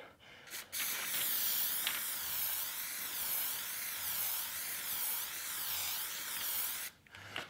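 Aerosol can of Plasti Dip spraying onto car emblems, a steady close hiss lasting several seconds with brief pauses at the start and end.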